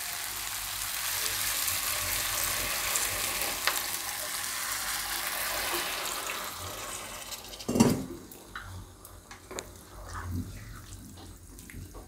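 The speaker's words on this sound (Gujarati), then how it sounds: "હવે આપણે આમાં થોડુંક પાણી નાખશું." Water pours into a pan of vegetable curry frying in spices, a dense rushing splash and sizzle that settles into quieter bubbling and a few stirring knocks, close up.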